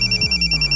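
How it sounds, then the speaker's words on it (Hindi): An electronic telephone ringtone trills in steady repeating pulses, fairly loud and close, over a low background hum. "सर नागपुर से शकील का फोन है"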